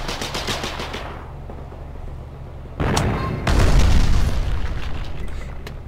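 Artillery fire in the war game Foxhole: a dense backdrop of distant rattling gunfire, then a heavy boom and a deeper, louder blast with rumbling low end rolling on beneath continuing battle noise.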